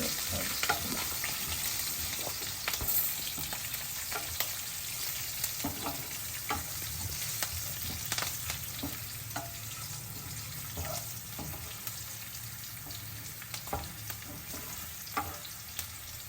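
Cumin seeds frying in oil for jeera rice, stirred with a wooden spatula: a continuous soft sizzle broken by light, regular scraping strokes, close and without talk.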